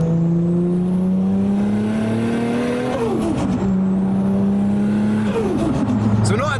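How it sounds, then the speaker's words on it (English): Tuned Nissan Skyline R34 GTT making about 500 brake horsepower, engine droning loud and close as revs climb, drop with a shift, then climb again, with a voice talking over it. "So it's not going to be the fastest Skyline yet, but it makes all the right noises."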